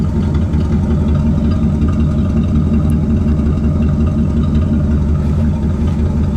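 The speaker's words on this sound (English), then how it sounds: "Big 472 sounds like a big boat motor." A factory-built custom 1969 Cadillac station wagon with a big 472 engine idles close by, a steady, deep, even rumble that holds without revving for the whole stretch.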